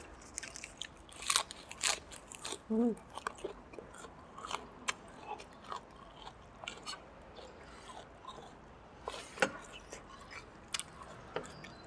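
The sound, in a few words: biting crispy potato crackers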